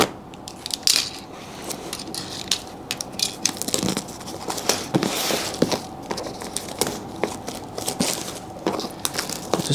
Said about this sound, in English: Just remove the plastic